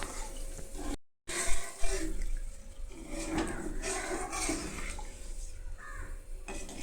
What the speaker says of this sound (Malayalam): പകരുകയാണ്. ഇതാണ് നമ്മുടെ എണ്ണ.